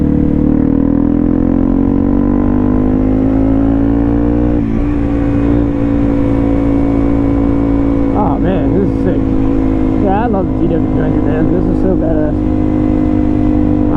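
A Yamaha TW200 dual-sport motorcycle rides at full throttle on a dirt outing, its engine droning loud and close with a steady pitch that climbs and shifts, and brief squeaky sounds later.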